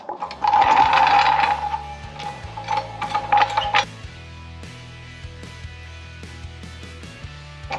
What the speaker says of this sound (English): First thing, gotta jack this up, put it on some jack stands.